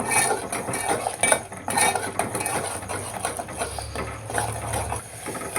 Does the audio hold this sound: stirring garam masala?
yes